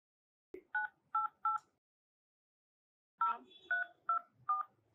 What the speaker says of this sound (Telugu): నెంబర్ ఇస్తే కనుక మేడం డైల్ చేస్తారు, కాన్ఫరెన్స్ కాల్ కలుపు